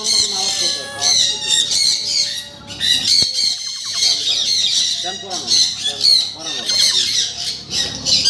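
Fancy pet birds at a farm squawk loudly and continuously in a dense chorus of harsh calls, with someone talking over them.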